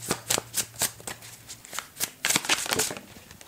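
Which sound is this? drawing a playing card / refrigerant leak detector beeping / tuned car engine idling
drawing a playing card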